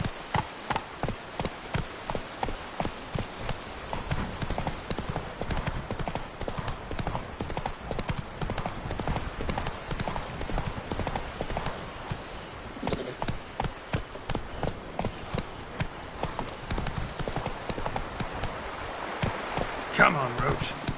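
Roach the horse galloping in The Witcher 3 Blood and Wine, a rapid steady clip-clop of hooves running on for about twenty seconds, close and loud, with occasional voices over it.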